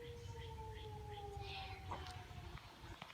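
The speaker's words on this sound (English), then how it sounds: "I guess that clears it up for the June tornado siren test for St. Charles County." A distant outdoor tornado warning siren sounds during a June siren test in St. Charles County, a steady, slowly falling wail held the whole time over low background rumble.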